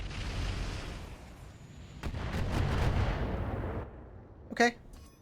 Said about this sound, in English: That was some really good shooting by that trebuchet.